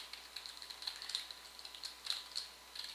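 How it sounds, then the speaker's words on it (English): Quiet, rapid keystrokes on a computer keyboard tap in an irregular run of soft clicks, close to the microphone with no voices. "We're going to type in O equals"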